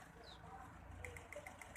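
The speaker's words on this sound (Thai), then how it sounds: "ดังปอกปอกปอกปอกดังอยู่ในหม้อแปลงนี่ปอกปอกปอกปอก" A faint, regular knocking ticks about six times in quick succession inside the transformer of a faulty car power amplifier, over a low electrical hum, with no voices.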